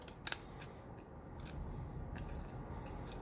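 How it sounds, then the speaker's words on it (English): Scissors snipping paper to cut out an oval shape for an abstract sculpture, a few soft close cuts spread over a quiet steady room background. "So I'm going to work on this oval here. I'm going to cut up a little bit there."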